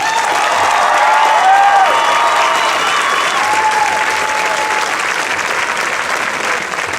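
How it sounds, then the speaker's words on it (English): A graduation crowd applauds the senior class of 2009 at a school ceremony, sustained loud clapping with a few scattered cheers and faint voices mixed in, easing slightly toward the end. "Give them a round of applause."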